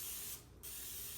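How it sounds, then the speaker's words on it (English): A brief hiss of non-stick cooking spray coats a donut pan for baked maple bacon donuts, one short burst lasting about a quarter second, close up and clear against a steady background hum. "Now we're going to spray our donut pan woo, with a little non-cooking spray."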